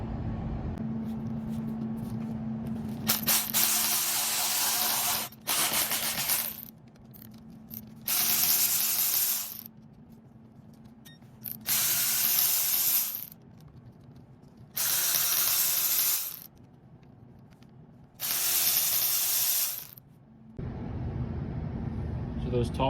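Top 10 mm bolts come off the cylinder heads of an LS LM7 5.3 engine during a teardown, with about six loud bursts of power-tool whirring, each a couple of seconds long, separated by quieter pauses over a low, steady hum.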